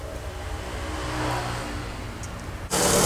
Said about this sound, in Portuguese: o Siena do seu Joaquim, ele tá com um barulho em um dos rolamentos aqui da correia auxiliar, que é a correia do alternador